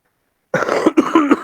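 A woman who is still unwell coughs and clears her throat a few times in quick succession, close and loud after a moment of silence.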